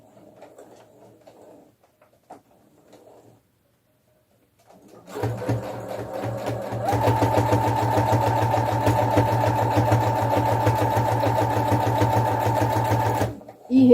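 A sewing machine stitching doll pajama fabric, backstitching at the start of a seam: a steady, close, continuous motor whir with rapid needle rhythm that runs for about seven seconds and then stops, after quiet moments with faint talk.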